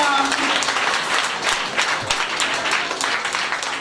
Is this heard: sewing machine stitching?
no